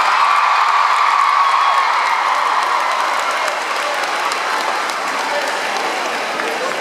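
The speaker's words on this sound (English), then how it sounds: "Can we please give them some love and a big round of applause?" A large arena crowd at a Demi Lovato world tour show applauds and cheers loudly, with whoops and shouts mixed into a dense, continuous roar that eases slightly toward the end.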